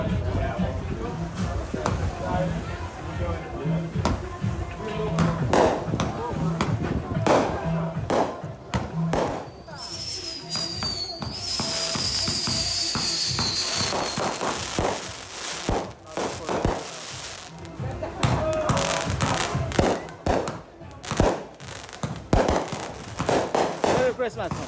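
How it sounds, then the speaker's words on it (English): Repeated sharp bangs and crackling bursts of fireworks going off, some near and loud, with voices talking intermittently beneath the popping. "This is going to be the fireworks for the 4th of July."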